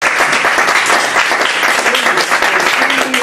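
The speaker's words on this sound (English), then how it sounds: "How about a round of applause?" Loud, dense applause from a talk-show audience fills the space steadily and close, a continuous wash of many hands clapping with a faint voice underneath.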